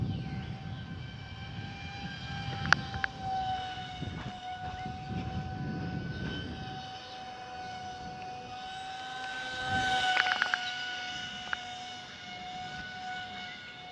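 A model airplane's electric motor hums with a steady, high whine while flying overhead, mostly moderate in level, swelling briefly louder near the end as it comes in to land. Light wind and handling noise sit underneath.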